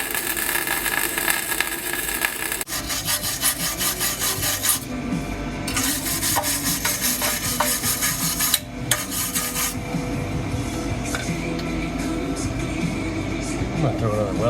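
A cheap MIG welder, about $200, lays a weld with a loud, continuous crackling buzz close up, with brief pauses and restarts between runs and a voice talking underneath.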